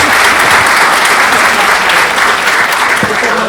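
Audience applause at a talk on workplace health and safety documents, a dense, steady wash of clapping from a large crowd filling the whole stretch at close, loud level.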